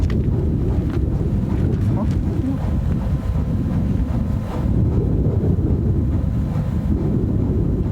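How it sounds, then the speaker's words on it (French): Wind blows at sunset in a steady, heavy rumble that buffets the microphone throughout, with no pauses. "c'est le même problème, c'est que le vent change de direction"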